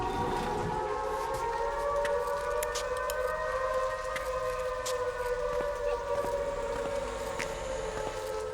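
A wailing siren in the horror video game Shadow Corridor 2, a long sustained drone with slowly bending tones that fills the whole stretch at steady loudness, with no talking over it.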